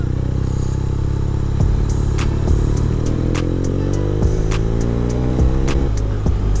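A BMW R1200 RT police motorcycle engine drones steadily and shifts pitch as it pulls past a car, with brief clacks and a rising rev toward the end, loud and close throughout with no talk.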